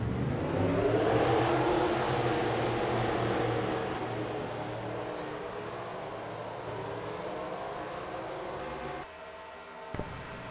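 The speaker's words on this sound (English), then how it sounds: "start your engines." Several race car engines fire up together at Daytona in a racing video game, a loud sustained roar with rising harmonic revs that settles into a steady idle drone, then cuts out near the end.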